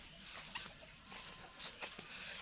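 Chickens cluck softly in a fenced coop on a rural farm field, with faint scattered calls and light rustling at a distance, fairly quiet overall.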